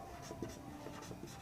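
Pen or chalk strokes writing out a Class 10 maths solution, soft scratchy marks in quick bursts against a steady low background hum, with no talking.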